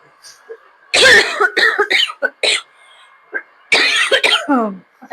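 Several harsh coughs close to the mic in two bursts, with someone talking briefly between and after them.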